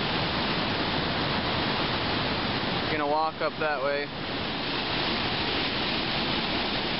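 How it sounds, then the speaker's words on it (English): Water of the Temperance River rushing through a deep canyon, a loud continuous roar like surf or a waterfall, with someone briefly speaking over it midway. "A lot of water running through there."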